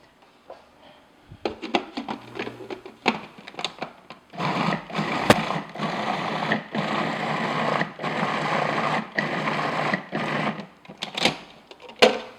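A food processor creams butter and sugar in short pulsed bursts, then runs in longer loud whirring stretches with brief pauses between them.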